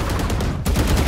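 Rapid gunfire in the Valorant video game, a fast chattering string of shots with a brief pause midway before the firing resumes, loud and close throughout.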